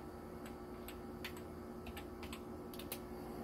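Someone types a password on a computer keyboard in an office, producing sparse, faint key taps at irregular intervals over a constant steady hum of room noise.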